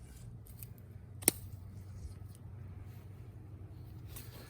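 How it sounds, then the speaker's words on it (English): Pruning shears make a single crisp snip through a Japanese maple branch, close and sharp, with quiet low outdoor rumble before and after. "We're going to cut it just above that."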